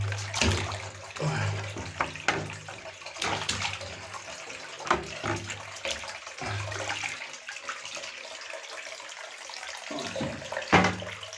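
Water poured from a container into a vessel holding freshly caught fish such as rotan and white amur, a steady close splashing and gurgling stream with brief pauses and louder surges, no talking.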